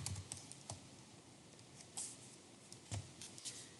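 Light, quiet typing on a computer keyboard during spreadsheet entry: a few scattered soft key taps in irregular rhythm, close and faint.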